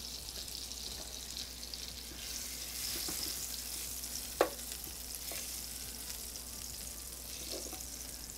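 Butter melting over low heat in a pan for a creamy Dijon sauce: a soft, even sizzle close by, with a single faint tap partway through.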